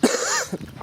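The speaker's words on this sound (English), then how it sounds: "Excuse me, I'm coughing a lot right now." A single man's cough bursts out at the start, followed by a few shorter throat-clearing coughs, close and fairly loud in a quiet setting.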